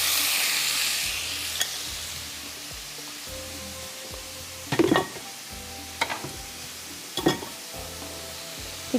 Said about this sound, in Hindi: तो इसके अंदर हम चिकन डाल के इसको हाई फ्लेम पे फ्राई कर रहे हैं चिकन